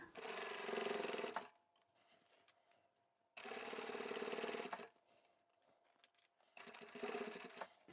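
A sewing machine stitches along the edge of a tapered toiletry bag in three steady whirring runs, each a second or more long, close up, with quiet pauses between and no talking.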